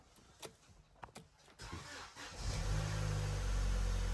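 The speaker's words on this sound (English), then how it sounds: "Start the car for me, please." A Vauxhall Zafira with a rattly timing chain and oil pressure fault cranks and fires up after a few faint clicks, settling into a steady, close idle drone.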